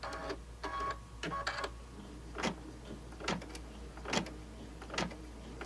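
An embroidery machine stitching a triple stitch on a zippered pouch in the hoop, with quick bursts of mechanical whirring and rattling broken by short ticking pauses, close and fairly quiet.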